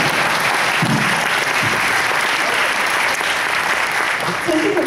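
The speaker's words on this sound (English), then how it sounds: "Now we have one applause for the audience" An audience at a Nobel laureates event at Nanyang Technological University applauds in a loud, sustained, even roar of many hands, with faint voices briefly surfacing underneath.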